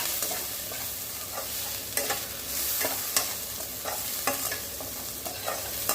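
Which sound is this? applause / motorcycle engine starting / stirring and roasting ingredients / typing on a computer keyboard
stirring and roasting ingredients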